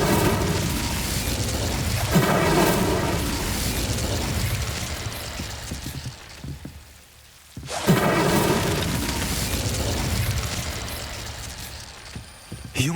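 A fire spell is cast in Hogwarts Legacy as a loud, roaring burst of flame. It sustains with a rumbling, crackling texture, drops briefly near the middle, then surges again.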